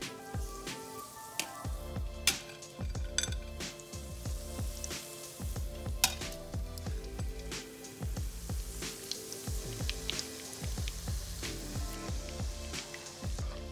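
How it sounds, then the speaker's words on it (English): Doritos-crusted chicken pieces fry in hot oil, a continuous crackling sizzle with bursts of sharp pops and spits scattered throughout, close up and with no one speaking. "All right, it is frying time."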